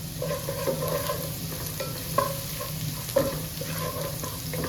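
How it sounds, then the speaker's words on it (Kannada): Garlic frying in a pan for palak paneer, a close, continuous sizzle broken by irregular stirring clicks and scrapes. "ಗಾರ್ಲಿಕ್ ಫ್ರೈ ಆಗಬೇಕು ಒಳ್ಳೆ ಒಳ್ಳೆ ಫ್ರೈ ಆದಮೇಲೆ"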